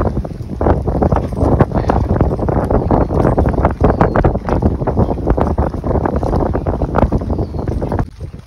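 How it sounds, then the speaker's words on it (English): Strong wind buffets an outdoor microphone at night, a steady loud rumbling roar that gusts unevenly throughout before easing off at the very end. "Still windy."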